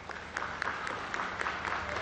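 An audience at a boxing event applauds to welcome Indonesian boxer Espinos Sabu, a steady patter of clapping heard from a distance at moderate loudness.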